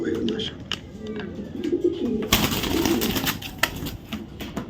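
Soft, low racing pigeon coos repeat in a noisy, rustling setting, with bursts of handling noise and scuffling partway through.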